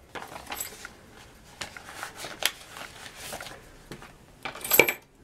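Canadian coins, including toonies, clink and jingle inside a paper savings envelope in scattered small taps and rustles, building to a brighter metallic jangle near the end, close and quiet.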